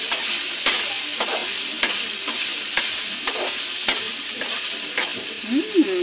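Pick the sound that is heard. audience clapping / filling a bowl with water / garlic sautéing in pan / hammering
garlic sautéing in pan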